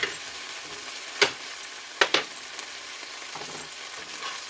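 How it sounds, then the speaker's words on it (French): Onions and green chili sauté in a pan for a cashew chicken stir-fry, a soft steady sizzle with a few sharp utensil clicks and scrapes scattered through, close and fairly quiet, no talking. "une fois que mes oignons ont saisi, je vais mettre mon piment vert. Et je vais les faire sauter."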